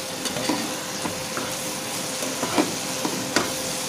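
Masala spices sizzle and fry in hot oil while a spoon stirs and scrapes the pan for masoor dal bora, a steady close crackle with occasional louder clinks of the utensil.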